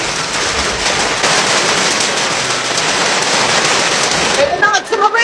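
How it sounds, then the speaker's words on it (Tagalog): Heavy rain pours down steadily and loudly on surfaces outdoors in a hot tropical setting, a dense unbroken hiss that eases briefly near the end as a voice speaks. "Umuulan naman ngayon."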